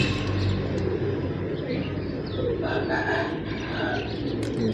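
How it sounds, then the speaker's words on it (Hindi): Pigeons feed on grain in a loft while low coos and bird calls come through a busy, steady background, with some faint talk mixed in. "थले कबूतर दाना खा रहे हैं"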